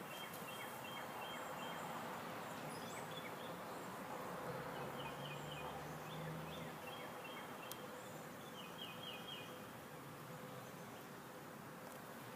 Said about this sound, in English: There's lots of bees in this hive